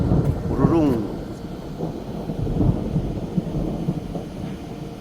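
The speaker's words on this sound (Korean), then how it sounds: "아, 번개치네요." Thunder rolls in a low, sustained rumble through a rain and hail shower in the mountains, with rain hissing steadily underneath and a voice briefly audible.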